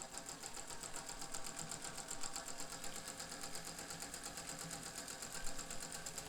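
A Singer 201 sewing machine stitches on its longest stitch setting, a soft, steady, rapid mechanical ticking and hum that runs evenly throughout at low volume with no talk.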